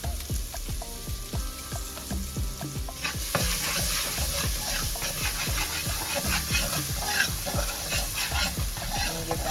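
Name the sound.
garlic and ginger frying in brown curry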